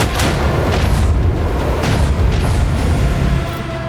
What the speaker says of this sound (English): Another salvo!